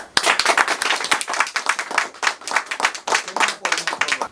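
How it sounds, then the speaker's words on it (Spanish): An audience at a political commemoration event breaks into applause for a speaker being introduced: a sparse, uneven patter of distinct claps from a modest crowd, steady and close for the whole stretch with no talking. "al hermano y compañero y camarada Radamés, a quien le damos un fuerte aplauso."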